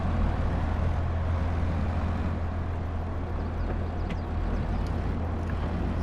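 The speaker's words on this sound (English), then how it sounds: "This tractor's good little zippy tractor." Small, zippy tractor engine idling and running in Farming Simulator 22, a constant low hum with a steady mechanical drone, even and unbroken, with no talk.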